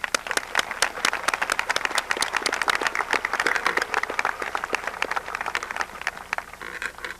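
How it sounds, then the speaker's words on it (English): Sustained applause from a high school commencement audience for the senior class advisors, dense steady clapping from a large crowd in a hall, continuous and moderately loud with no voices over it. "Class, let's give them a round of applause."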